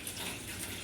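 Water gushes steadily from a tap into a basin while rose jam is being prepared in a home kitchen, a close, continuous rushing stream with no talk.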